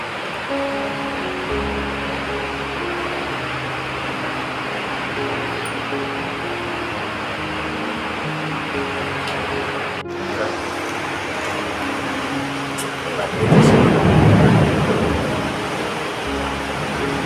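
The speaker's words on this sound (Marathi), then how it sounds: "पाऊस बघा किती पडतोय" Heavy rain pours down in Konkan during Diwali, a dense, steady roar that holds throughout, swelling into a deeper, louder rush near the end.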